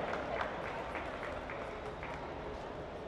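A crowd at a classic car auction applauds after a sale, a dense, steady patter of clapping that continues evenly through the short stretch, with some voices mixed in.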